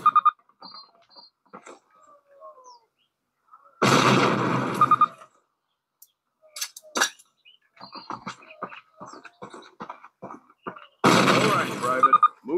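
Two loud, sharp gunshot blasts fire at a target in a video game, spaced several seconds apart. A voice talks between them over near-silence.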